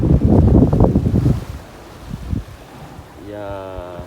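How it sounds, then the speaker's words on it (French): Strong wind of about 20 knots roars across a sailing boat in heavy swell at sea, a loud rushing gust that fades to a lower hiss, with a tonal whine rising near the end. "encore beaucoup de houle et on a 20 nœuds de vent"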